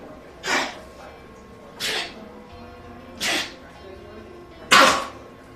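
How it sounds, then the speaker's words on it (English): A dog with kennel cough gives four harsh, hacking bursts about a second and a half apart, fairly quiet and close, the last one loudest. "That's kennel cough all the way."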